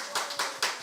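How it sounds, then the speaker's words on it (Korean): A church congregation at Sunday worship claps in unison, four distinct, evenly spaced claps, close and fairly loud, with no voices over them. "박수 한번 하겠습니다."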